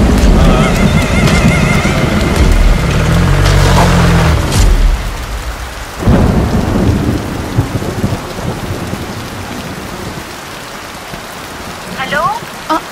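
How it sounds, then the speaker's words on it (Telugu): Heavy rain pours with rolls of thunder on a wet night outdoors, a loud steady wash with deep rumbles early on that eases later, and a few faint voices and clanks under the downpour. "ఇక్కడ బాగా వర్షం పడుతుంది"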